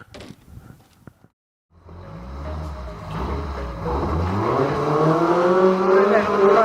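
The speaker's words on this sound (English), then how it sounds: "At the moment there is 950 Anthony Amos racing his retro here tonight" A Retro Rods race car at Swaffham Raceway, driven by number 950 on the oval, builds from a low engine note into a rising, revving roar. A short burst of other noise comes first, then a silent gap before the engine swells and climbs.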